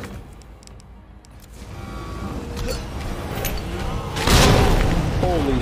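Grenade explosion in Resident Evil 2, a heavy boom arriving late after a rising rumble, loud and close, with a voice talking earlier.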